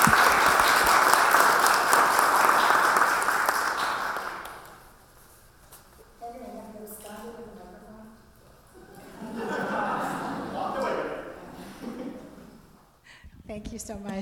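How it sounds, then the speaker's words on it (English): An audience at a disability, equity and inclusion event at Yale breaks into a warm round of applause for the speakers, loud steady clapping that fades out, followed by a person talking and a light chuckle. "So please join me in a warm round of applause for our speakers."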